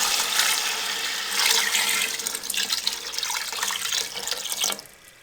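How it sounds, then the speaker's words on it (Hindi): Three cups of water pour steadily into a cooking pot with a broad, splashing rush that continues for several seconds before cutting off. "अब इसमें हम 3 कप पानी ऐड कर देंगे।"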